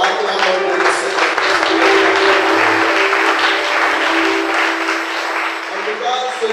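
A church congregation applauds loudly and continuously, with cheering and voices mixed into the clapping throughout.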